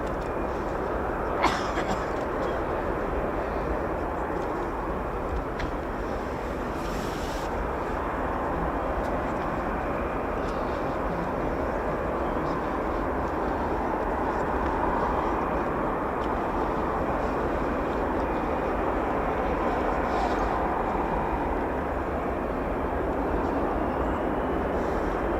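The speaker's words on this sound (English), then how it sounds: "Our first glimpse of the F-18s" Swiss F-18 Hornet jets at RAF Leeming during an exercise make a continuous distant roar that holds steady and broad for the whole stretch, with no talk over it.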